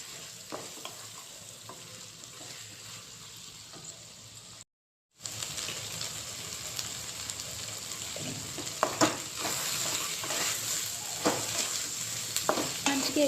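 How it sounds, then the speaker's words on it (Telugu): Masala paste with ginger paste and turmeric frying in oil in a pan for a meal maker (soy chunk) curry, a steady broadband sizzle with scraping stir strokes, briefly cut to silence midway and growing louder and busier afterward. "అన్నీ మిక్స్ అయ్యాక బాగా వేయించుకోవాలి ఆయిల్లోని."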